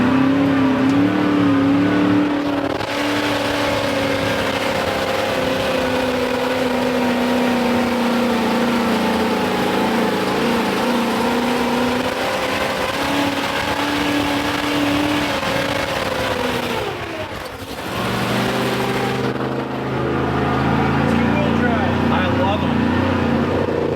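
Off-road 6x6 vehicle engine droning and revving steadily while climbing a hill on a trail, with a brief dip in engine note near the end; people talk over the engine.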